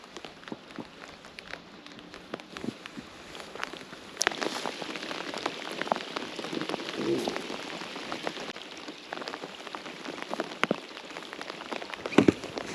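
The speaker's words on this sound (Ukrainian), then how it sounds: "якийсь дощ кропотить" A light November drizzle patters during a spinning fishing trip, with soft, scattered drops and small ticks continuing steadily throughout.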